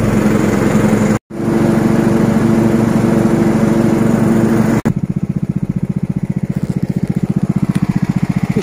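A Stiga Estate 3084 H lawn tractor mows grass taller than the machine, its small engine droning loud and steady up close, with one brief cutout and a shift to a pulsing, throbbing rhythm in the second half.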